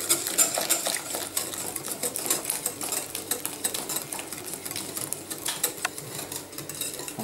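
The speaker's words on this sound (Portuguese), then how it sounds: "mexendo sempre" A whisk scrapes steadily in a pot of egg yolks, a whole egg and sugar for crème brûlée, a fast, continuous light clicking and scraping close to the microphone.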